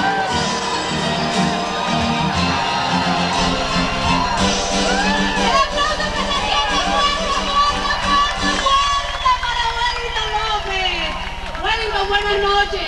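A live show crowd cheers, shouts and whoops loudly throughout, a dense noisy roar of many voices with a host's voice calling out over it.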